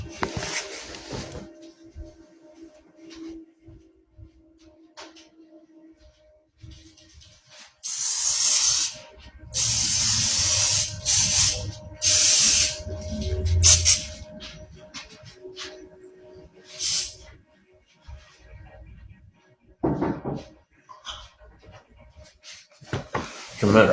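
Lysol disinfectant spray hisses from an aerosol can in several long bursts, close and loud, between quieter stretches with small handling noises.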